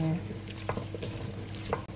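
Swahili pilau fries and browns in a pot, making a steady, close sizzle with a few sharp clinks and stirring scrapes. No one speaks.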